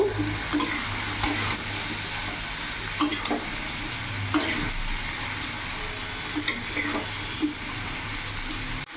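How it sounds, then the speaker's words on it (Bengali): Turmeric and cumin powder being stirred in a frying pan, with a steady sizzle running throughout and periodic scrapes of the spoon against the pan. "হলুদ গুঁড়ো দিয়ে দিলাম, জিরে গুঁড়ো দিয়ে দিলাম। ভালো করে নাড়াচাড়া করে নেব।"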